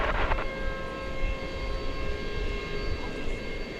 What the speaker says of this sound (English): here comes the Singapore Airlines Cargo 7952. It's a 747-400 arriving from Anchorage.